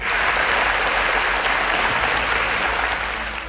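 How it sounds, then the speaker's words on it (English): Loud, sustained applause from a crowd at a quiz competition semi-final, clapping steadily and tapering slightly at the end. "A round of applause for Tolu."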